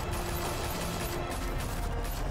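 Rapid gunfire from the video game Batman: The Telltale Series, a dense burst of overlapping automatic shots with no talk over it.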